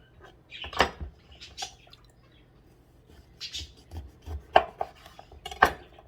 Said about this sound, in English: You kind of tap it a little bit